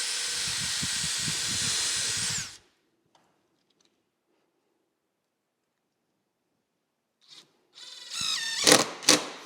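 A power drill drives a screw into MDF: a steady, loud whirring burst for about two and a half seconds, then near silence, followed by faint clicks and a few sharp handling knocks and thuds.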